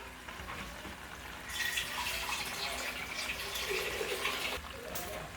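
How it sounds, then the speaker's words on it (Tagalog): Water pours steadily into a pot of miso sinigang with red snapper, a close, continuous splashing stream for several seconds before easing off. "dadagdagan natin ng tubig para mas maraming sabaw, mas masaya"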